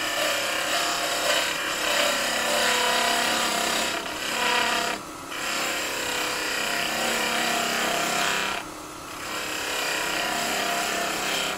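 A skew chisel cuts wood spinning on a lathe, a steady, close scraping and rasping hiss that runs continuously, broken by a couple of brief dips and sharper scratchy bursts as the tool shifts against the workpiece.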